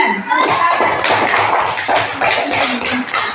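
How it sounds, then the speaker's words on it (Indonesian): A classroom of students claps for a group of classmates, a close, uneven patter of many hands slapping together, loud and sustained with a few sharper taps and no speech over it. "Tepuk tangan untuk kelompok ovovivipar juga mendapatkan nilai 9."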